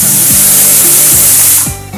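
Dal seasoned with salt, turmeric and oil boils hard over high heat, giving a loud, steady hiss of steam that runs unbroken and then drops off sharply in the final moments.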